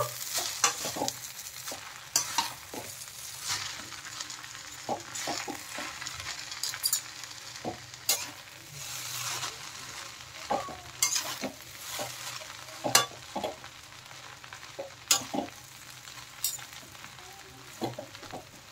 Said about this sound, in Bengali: এখন ডিমের ভুজিটা আমি দিয়ে দিলাম, দিয়ে আবার ভালোভাবে মিশিয়ে দেব।